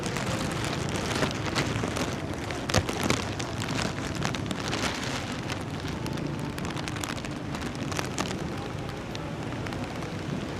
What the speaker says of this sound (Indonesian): Nah ini hujan turun lagi nih.